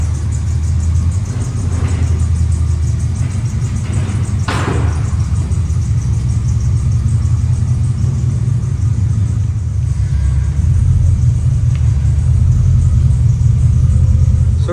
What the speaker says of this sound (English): Now we're gonna bring in the V8 that y'all sleeping on.